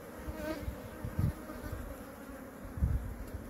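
Honey bees buzz continuously inside a hive with a super on, with a dense low drone that swells in a few louder pulses.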